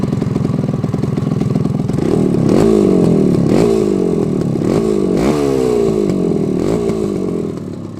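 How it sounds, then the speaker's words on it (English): A 1971 Kawasaki GT3 100 motorcycle engine runs close by with a raspy, buzzing tone, blipped in a series of short revs that rise and fall rhythmically over a steady idle. "It's got a nice idle to it."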